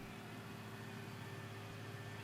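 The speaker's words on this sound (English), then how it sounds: "I do love this straw blower." A straw blower on a tractor in Farming Simulator 19 runs steadily with a constant low engine drone and a mechanical hum, unchanging and alone throughout.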